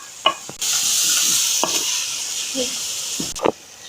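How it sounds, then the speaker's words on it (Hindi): Vegetables for chicken fried rice sizzle steadily in a hot pan, with a loud continuous hiss broken by a few scraping stirs of a spatula, close up and without talk. "ऐसे ही आप चलाते रहिएगा वरना आपकी सब्जियां जल जाएंगी"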